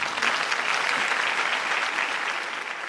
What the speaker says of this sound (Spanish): Por favor, denle un aplauso a Peter Griffin.